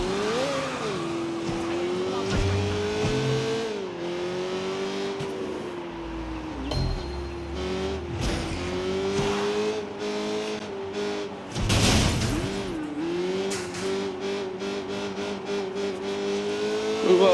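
A car in the video game Sleeping Dogs drives and revs, its engine pitch rising and falling through gear changes, with a few tire squeals and impacts, loud and continuous.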